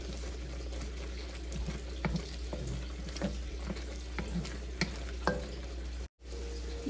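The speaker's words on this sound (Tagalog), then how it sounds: "Halo-haloin lang para hindi masunog yung bawang." Garlic sizzles steadily in a pan for buttered shrimp, with close stirring scrapes and clinks throughout and a brief dropout near the end.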